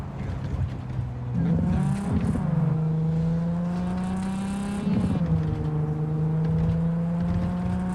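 Car engine in Cyberpunk 2077 rumbling like a V8, droning and revving up twice, with shifting pitch and a steady hum under the acceleration, fairly close and loud.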